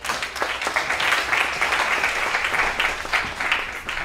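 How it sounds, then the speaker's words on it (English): Applause from an audience at a sharing-economy event greets a helper called up on stage, a dense, steady wash of clapping lasting about four seconds with no voices over it. "give him a round of applause"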